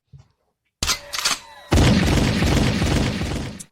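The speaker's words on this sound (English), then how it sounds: "Gunshot." Gunshot sound effect played on a podcast, a few sharp bangs followed by a loud, sustained rumbling blast that slowly fades out.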